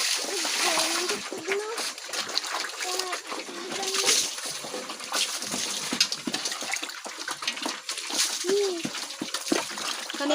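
Water splashes and sloshes repeatedly while a pig is bathed outdoors in the province, with chickens or birds calling and people talking over the wet slapping throughout.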